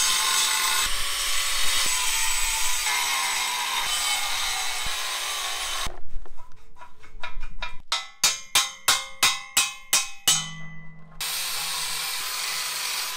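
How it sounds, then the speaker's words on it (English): An angle grinder cuts into a steel trailer hitch receiver tube with a loud continuous whine, then a burst of rapid rhythmic grinding pulses before the steady cut resumes. No one talks. "I'll just take the grinder and just cut it up here"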